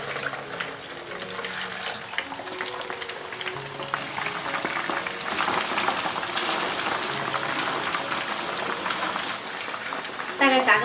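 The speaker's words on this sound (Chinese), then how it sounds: "油温6成热的时候放进来炸。" Pork ribs deep-fry in hot oil over medium-low heat, giving a steady, close bubbling crackle that runs the whole time, with a faint tonal background underneath.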